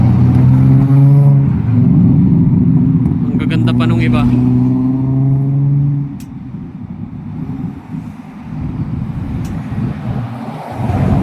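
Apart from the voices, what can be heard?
heavy rush hour car traffic at an intersection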